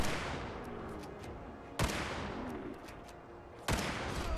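A Rolling Block Rifle fires in Fallout 4, with two sharp, loud single shots spaced about two seconds apart over a dense, busy game soundscape.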